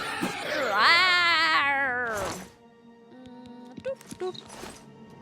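A loud drawn-out cat roar with a rising then falling wail is heard in the game Oblivion Remastered, followed by quiet game sounds and a few soft clicks.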